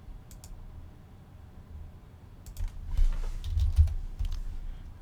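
Computer keyboard typing and mouse clicking while filling in an FAA medical certificate application online, with soft, irregular taps that grow denser and louder in the second half, close to the microphone, with no talking.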